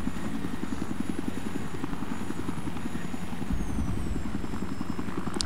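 Helicopter in the video game Battlefield 3, a constant rapid rotor chop with a steady engine whine, loud and close throughout, with no talk over it.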